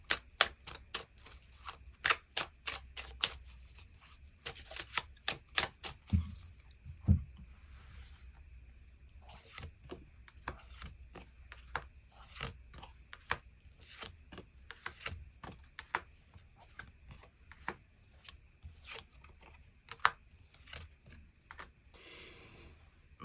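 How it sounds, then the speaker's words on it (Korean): Tarot cards being shuffled and drawn from a deck, with crisp repeated flicks and snaps, quick runs of card slaps and softer slides, close and clear with no talking. "추가 카드 뽑아보도록 하겠습니다"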